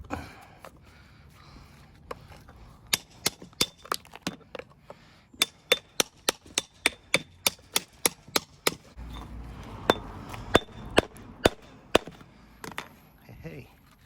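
Repeated sharp brick-hammer blows dressing stone for a retaining wall, loud and close, coming in quick irregular bursts with brief pauses between them.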